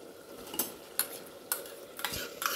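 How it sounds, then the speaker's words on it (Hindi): Mutton fries in a pan while a spoon stirs it, a soft low sizzle under several sharp metallic scrapes and clinks spaced about half a second apart, quiet and close. "देखिए इसको मैं अच्छे से भून रही हूँ, पूरा रोगन निकल जाता है।"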